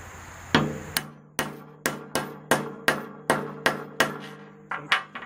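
About eleven sharp, ringing hammer blows strike a small metal punching tool to crimp a shaft down onto a top plate, spaced in an even rhythm and heard close with no talking.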